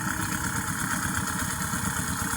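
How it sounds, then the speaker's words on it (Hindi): A rebuilt CD motorcycle engine with a new piston and valves idles, a steady even thrum running throughout at moderate distance with no talking over it. "इंजन का साउंड चेक करें"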